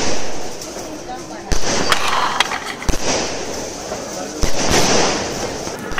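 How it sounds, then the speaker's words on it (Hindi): Diwali firework rockets bursting outdoors, with several sharp pops and cracks at about 1.5, 3 and 4.5 seconds over a steady crowd and street din. "वो देखो रॉकेट"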